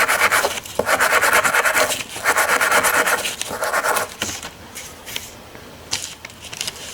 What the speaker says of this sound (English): Same way, PV blaster, wire brush, just rub it down.